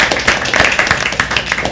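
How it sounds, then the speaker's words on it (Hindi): Live audience at a poetry open mic applauding the host, a dense steady wash of many hands clapping close and loud with no one speaking. "एक बार अपने होस्ट के लिए जोरदार तालियां कर"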